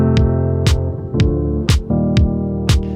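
A Roland SP-404 sampler track playing without sidechain compression: a looping beat of loud, sharp drum hits over continuous sustained chords, steady and close, with no voices.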